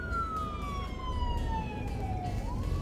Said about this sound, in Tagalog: May ambulansya, tatabi sa gilid, hindi pwedeng dire-diretso.